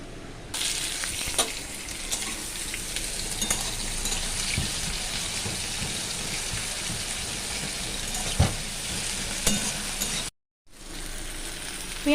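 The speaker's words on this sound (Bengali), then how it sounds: "এই জন্য আমি 4 চামচ মতো তেল দিয়ে দিলাম একটু 5 ফোড়ন, দিয়ে দিলাম একটা গোটা শুকনো লঙ্কা" Panch phoron and a whole dried red chilli fry in about four spoonfuls of hot oil, giving a loud, continuous close sizzle with a short break near the end.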